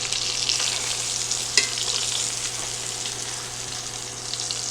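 Steak sizzling and frying in a hot pan, a steady broadband hiss that holds throughout with one brief pop midway, loud and close, with no talking.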